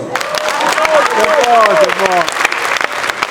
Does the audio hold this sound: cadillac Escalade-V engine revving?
no